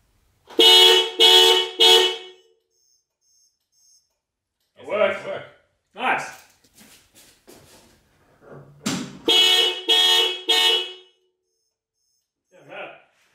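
A Viper 5706v car alarm blasts the car horn in bursts, first three loud honks, then a similar group of three later, with people talking between them.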